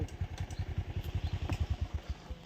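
A motor engine runs just after being started, giving a steady, rhythmic low chugging pulse with a faint clatter on top, close by and with no talking.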